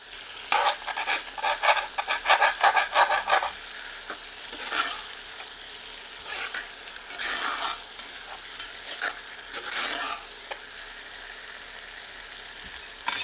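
Uttarakhandi chicken curry masala being sautéed in a pan, with a quick run of rhythmic spatula scrapes over a sizzle, then slower, spaced stirring strokes against a quiet frying background.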